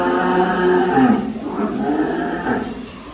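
Large cattle at the Dream Mate Agro farm give a deep, drawn-out moo lasting about three seconds, rising and swelling twice, close by with no talking over it.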